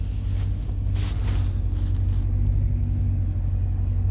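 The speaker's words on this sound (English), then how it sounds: "Let you hear that beast exhaust a little bit." A 2018 BMW X5M idles with a deep, steady exhaust rumble, loud and close, holding a constant burble with no clear revs throughout.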